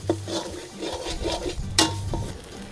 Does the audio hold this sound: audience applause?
no